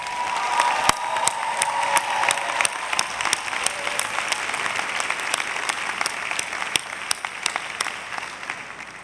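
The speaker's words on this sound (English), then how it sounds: "let's give those who are here to celebrate you today a round of applause" A commencement ceremony audience applauds steadily for about nine seconds, a dense sustained clapping with a few sharper claps standing out near the front.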